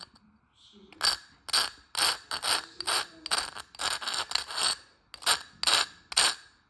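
Carborundum stone rubbed gently along the cut edge of a piece of stained glass, giving a steady series of about a dozen short, bright rasping strokes in a quick, even rhythm, close and clear with no talk.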